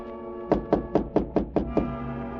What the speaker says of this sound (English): I heard a tap on my door